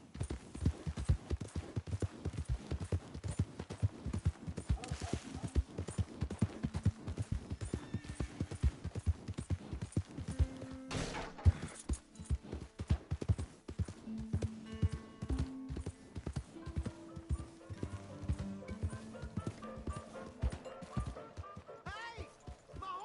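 Rapid, steady clip-clop of horse hooves galloping in Red Dead Redemption 2 on PS5, with a voice talking over it partway through and a brief whinny.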